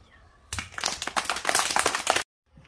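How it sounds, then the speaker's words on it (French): Kindergarten children clap after a story is read to them, a burst of quick uneven claps that begins suddenly, holds for under two seconds and stops all at once. "On peut applaudir."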